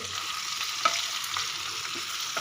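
White eggplant pieces fry and get stirred in a pan, a steady broadband sizzle with occasional scraping stir strokes, close and continuous with no talking.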